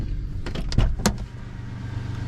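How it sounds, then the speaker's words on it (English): A 1997 Toyota 4Runner's power window motor hums as the glass rises, with a few clicks and thumps over a steady low engine idle and the window seating at the top. "Goes up without no problem."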